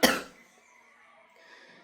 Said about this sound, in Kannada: ಎಷ್ಟೇ ಮದ್ದು ಮಾಡಿದರೂ ಕೆಮ್ಮು ಕಡಿಮೆ ಆಗ್ತಾ ಇಲ್ಲ